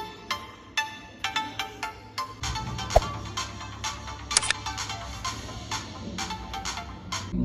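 Music from the small built-in speaker of a smartwatch, a thin, tinny tune of short plucked notes in a steady rhythm, fairly close and heard alone.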